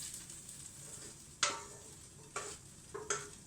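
Butter sizzles in a pan during homemade hamburger cooking: a soft, steady hiss broken by a few sharp utensil clinks and scrapes.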